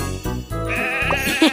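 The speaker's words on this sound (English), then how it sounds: "Oh no! Sheep have wandered onto the tracks." Cartoon sheep bleat in a children's train video game, a short, close, wavering bleat rising over a synthetic music bed, with no talking.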